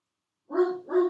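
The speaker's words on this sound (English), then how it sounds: "Sorry for the dog barking" Two close, loud barks from a dog indoors in fast succession, the second trailing off at the end.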